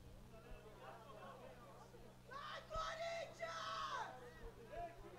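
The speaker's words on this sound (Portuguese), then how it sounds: "Torcida do Corinthians aí vai incentivando." Corinthians supporters cheer at an under-11 youth football match, their distant crowd chants and yells swelling midway then fading, heard faintly behind a nearby voice talking.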